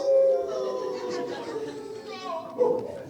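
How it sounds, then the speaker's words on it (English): A coyote howls at night in a Western setting, with drawn-out tonal wails at the start and again near the end, mixed with faint background voices and chatter. "A coyote howls in the night."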